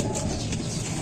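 Pigeons coo softly close by, a brief low murmuring burble over a steady background.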